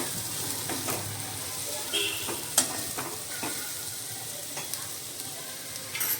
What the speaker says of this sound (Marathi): आता आपण त्याच्यामध्ये टाकूया भाजलेले पावटे। मिक्स करून घेऊया।